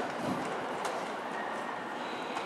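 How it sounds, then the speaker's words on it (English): A model train on a signalling layout at the National Railway Museum starts to move, giving a steady, even rolling rumble with faint clicks, fairly quiet and continuous. "And the train will now start from T."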